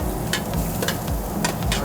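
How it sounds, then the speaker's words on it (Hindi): Chopped onion hits a hot pan for Schezwan paneer, sizzling loudly and steadily up close while several quick stirring scrapes cut through. "उसके बाद हम चॉप ऑनियन डालेंगे।"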